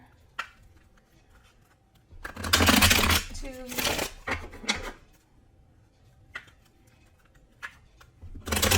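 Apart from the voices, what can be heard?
tarot cards being shuffled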